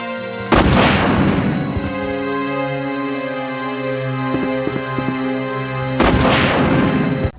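Loud gunfire bursts in the 1990s PC game Resident Evil as bioorganic zombies are blasted apart, a heavy blast opening and another near the end, with ringing tones and smaller impacts between.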